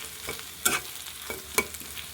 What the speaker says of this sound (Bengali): ভালো করে নাড়াতে হবে, নাড়িয়ে তারপর এটা ভাজতে হবে, যাতে মশলাটা ভিতরে যায়